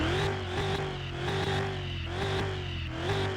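A Bolt Reptilia R6 car in a drag racing video game is revved repeatedly while standing. The engine's loud, steady growl swells and eases in a regular rhythm, heard close with no other sound.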